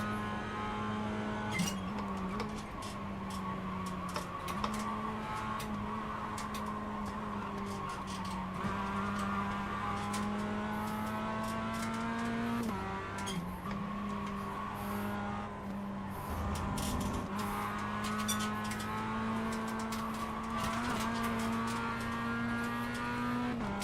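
Mazda MX-5 race cars battle at Lime Rock Park, heard from inside one: a loud, continuous engine drone that drops and rises with gear changes, broken by sharp bursts of tire squeal in the corners.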